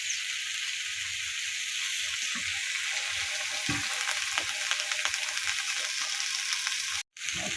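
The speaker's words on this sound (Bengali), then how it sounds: "এই যে কাঁচা লঙ্কা চিড়ে দিলাম, কষানো হবে একটুখানি।" Slit green chillies frying with dried fish and beans in a pan, a bright, dense hiss that carries on steadily with faint stirring taps and a brief cut-out near the end.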